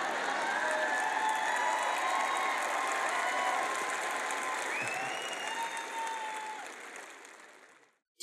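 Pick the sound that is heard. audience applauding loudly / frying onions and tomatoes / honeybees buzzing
audience applauding loudly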